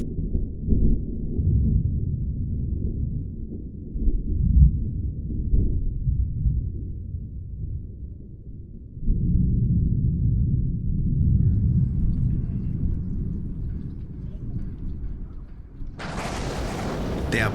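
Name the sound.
thunder rumbling from the mountains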